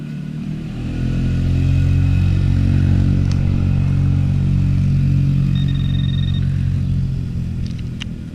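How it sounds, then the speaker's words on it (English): A park ranger's Gator utility vehicle drives past with a steady low engine rumble that swells in after the first second and holds loud and close, a few faint clatters on top. "The park ranger is driving around on a gator"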